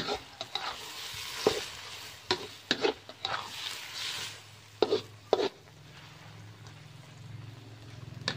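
Egg stir-fried with luffa in a hot pan, a steady sizzle broken by a series of scraping, clacking strokes of a spatula against the metal, close and fairly loud, with no talk.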